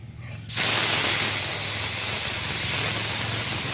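Air hisses loudly and steadily out of a motorcycle tyre valve, a strong continuous rush starting abruptly after a brief quiet moment and holding close and alone.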